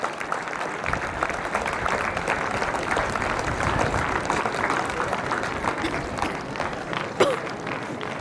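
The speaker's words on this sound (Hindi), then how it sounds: "आप सभी से आग्रह है कि तालियां बजाकर भैया जी और दीदी जी का स्वागत करें" A school assembly crowd at a Labour Day event claps steadily for the school workers, a dense sustained round of applause with faint voices mixed in.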